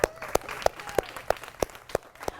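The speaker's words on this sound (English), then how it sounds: "How about an applause, everybody?" Slow, evenly spaced hand claps at an awards ceremony, about three per second, sharp but fairly faint against a quiet room.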